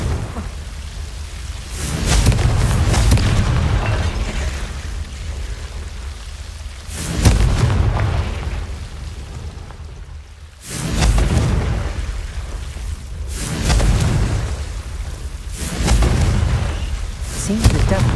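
Confringo blasting spells explode in Hogwarts Legacy, a series of about five loud, booming blasts with rumbling tails, spaced a few seconds apart over a continuous low roar.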